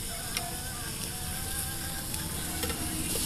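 Meat sizzles on a Korean restaurant table grill, a dense, continuous hiss of frying fat close by, with faint crackles over a low background hum.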